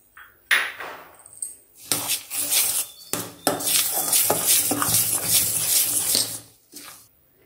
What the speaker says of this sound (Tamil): இந்த ஏலக்காய் போட்டு நல்லா கலந்து வச்சுக்குவோம்